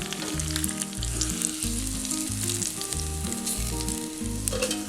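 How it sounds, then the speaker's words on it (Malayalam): Tempering of browned onion and curry leaves in hot oil is poured into a roasted chicken curry, giving a steady sizzle and frying hiss throughout, layered over rhythmic background music. "ഇനി ഇത് ചിക്കൻ കറിയിലേക്ക് ഒഴിക്കാം."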